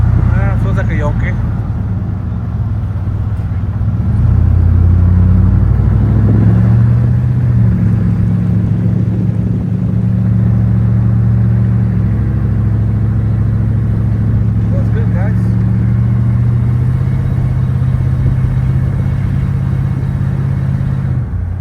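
An old OBS-era pickup truck engine rumbles low and steady while driving on a test drive, with someone talking over it now and then.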